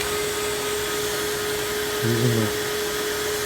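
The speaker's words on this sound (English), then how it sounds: "just suck all of the contents of this radiator into my wet vac" A wet vac draws water out of a domestic radiator, a loud steady suction whine with a brief gurgling slurp partway through.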